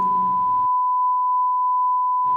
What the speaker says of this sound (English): Some sort of weird noise that's like the ringing in your ears starts playing.